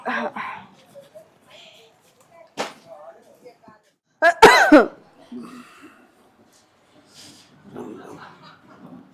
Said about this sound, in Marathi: हा, खोकला येतोय ना